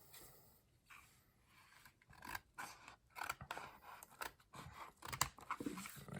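Scissors slid into a graded comic book slab and cutting down the plastic well, close crisp snipping and scraping with irregular rustling handling noises, no talk.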